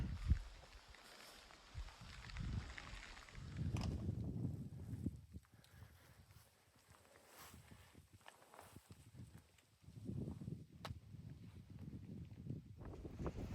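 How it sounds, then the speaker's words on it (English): Wind gusting across a steep mountain trail near a boulder field, surging in loud rushing waves with quieter lulls between, plus faint scuffs of footsteps. "it's gonna be hard to hear me over the wind"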